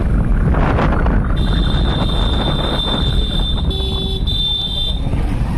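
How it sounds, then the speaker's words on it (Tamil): Road traffic in a jam with a car horn held in a long steady toot, followed by shorter honks, over loud, continuous wind rumble and engine noise close to the microphone. "இப்போ இங்கே ஒரு டிராஃபிக்கு இங்கே பாருங்க"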